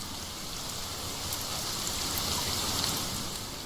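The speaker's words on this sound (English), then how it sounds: "And the rain's really starting to pick up now." Heavy rain falls steadily on a shelter in a forest, a dense, loud, continuous patter that holds even throughout with no voices.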